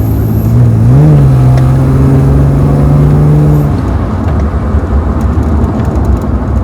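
An RB30-engined VL Commodore fitted with 1000cc injectors accelerates, a loud droning engine note rising in pitch for a few seconds before easing off into a steady road rumble.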